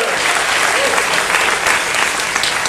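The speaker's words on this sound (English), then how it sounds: "Give yourselves a gratuitous round of applause." Loud, dense applause from a large audience at a first-timers orientation session on a cruise, sustained and even throughout with a crowd murmur beneath.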